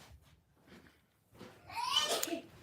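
A child sneezes once near the end, a sudden sharp burst after quiet babble and soft murmuring in an indoor room.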